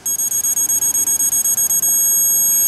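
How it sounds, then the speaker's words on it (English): An SBVTools 3/8-inch drive digital torque adapter on a 3/4-inch extended ratchet beeps in a fast, even series of short high pips as it nears preset torque, then holds one solid tone, close and clear with no talk. "once we get close, it's going to start beeping"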